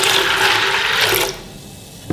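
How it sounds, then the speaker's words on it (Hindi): Water gushes steadily into a pressure cooker holding lentils and spices for shami kabab, a loud continuous pour that stops abruptly partway through, followed by quiet and a small clunk. "इतना पानी हम डालेंगे जिससे हमारी दाल अच्छी नरम गल जाए"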